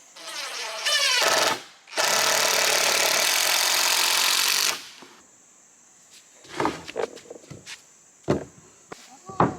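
A power drill whirs in two bursts, the second longer and steadier, driving screws into pre-drilled holes in wood for an outdoor couch, followed by knocks and handling sounds.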